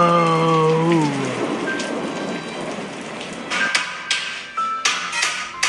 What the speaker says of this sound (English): But when the rain came, it washed away.